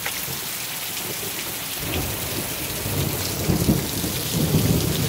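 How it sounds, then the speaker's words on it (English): Heavy rain pours steadily during a bad thunderstorm, a dense continuous hiss with low rumbling thunder swelling toward the end, loud and close with no voices. "Bad storm."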